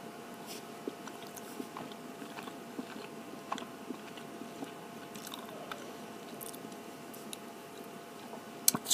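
Close, quiet, wet chewing and biting of peeled eggs with hot sauce, with irregular soft clicks and squishes repeating steadily throughout.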